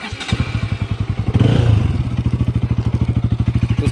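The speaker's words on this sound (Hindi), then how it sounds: "सुनते हैं इसका एग्जॉस्ट नोट कैसा आ रहा है इस टाइम" A Bajaj Pulsar RS200 BS6 motorcycle idles in neutral with a steady, thumping exhaust pulse, briefly revving up before settling back into its rapid rhythmic putter.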